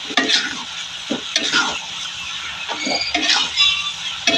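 Tempe frying in a pan while being stirred, a continuous close sizzle broken by repeated spatula scrapes and knocks against the pan, with no voices.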